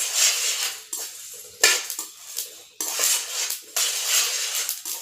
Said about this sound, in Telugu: కొన్ని ధనియాలు వేసుకొని వేయించుకోవాలి ఫ్రెండ్స్